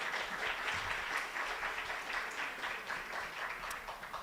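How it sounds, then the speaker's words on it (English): Applause from an audience at a technology and youth income event, a steady broadband patter of many hands clapping throughout, moderately faint and without talk. "I kind of feel like that deserves a clap"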